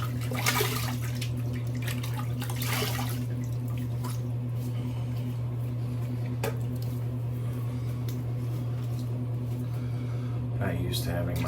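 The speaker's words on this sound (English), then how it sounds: "let's rinse the face here" Water splashed and dripping as a face is rinsed after a shave, wet squishing and trickling over a steady low hum with some talking.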